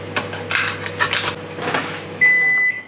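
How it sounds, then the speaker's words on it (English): Microwave oven heating a cup of water in a home kitchen, a steady low hum with clinks and rattles from handling, ending in a sustained electronic beep. "I'm gonna pop it in the microwave for maybe like a minute"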